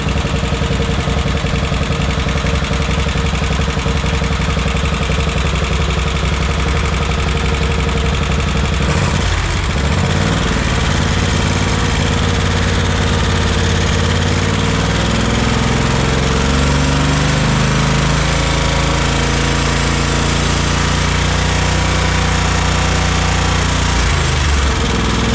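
An old, beat-up tractor engine runs under its own power, a loud, close, continuous rough mechanical rumble with a chattering, hammering texture and slight shifts in pitch.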